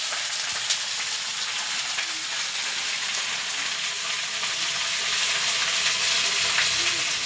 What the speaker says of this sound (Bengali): এখানে লাল শাক ভাজা বসিয়ে দিলাম সোমবারে দিয়েছি রসুন কাঁচা লঙ্কা কালা জিরে